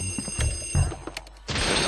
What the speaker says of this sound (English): How would a phone be ringing in here?